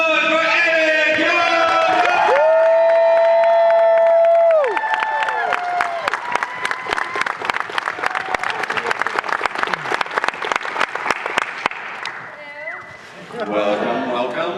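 A convention crowd at Megacon Orlando cheers loudly at first, then breaks into dense, sustained applause with rapid clapping that thins toward the end as voices rise again.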